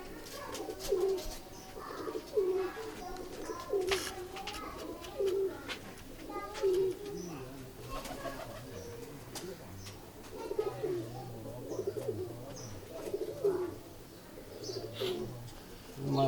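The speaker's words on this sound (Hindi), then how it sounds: "ये लाल आँखों वाला कबूतर है जी, कमगर कबूतर है।" Red-eyed Kamgar breeder pigeons coo in a steady series of soft, rolling calls, close by, over a background of faint chirps and noise, while people talk nearby.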